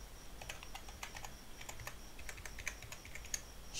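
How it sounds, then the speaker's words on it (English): Quick, faint clicking of keys on a computer keyboard as a password and email are typed, in uneven bursts with short pauses, no talking. "you come here and type your password and email"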